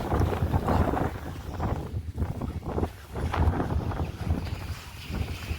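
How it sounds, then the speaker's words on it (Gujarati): Strong, storm-like wind roars continuously and loudly across the microphone in the Khambha area as rain sets in, with gusty buffeting swells throughout. "કપડાટ ફૂલ પવન છે. વાવાઝોડા જેવું લાગે એટલે ફૂલ પવન."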